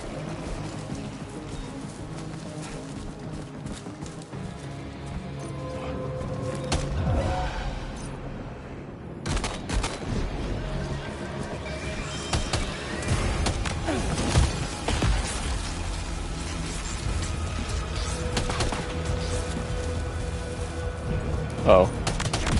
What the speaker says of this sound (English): The enemy heard a gunshot.